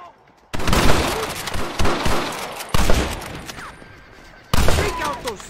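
Gunfire rings out in a Red Dead Redemption shootout: loud, close bursts of rapid shots with sharp attacks and ringing tails, separated by short pauses, with shouted voices faintly mixed in.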